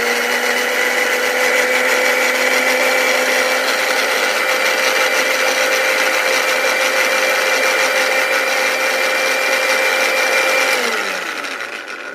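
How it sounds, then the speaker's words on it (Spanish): A kitchen blender whirs steadily for about eleven seconds, blending chopped pineapple with a whole raw egg, a loud, even high-pitched motor drone that winds down at the end. "aquí en nuestra licuadora vamos a poner el huevo y vamos a poner la mitad de una taza de piña picadita y la vamos a licuar por unos segundos"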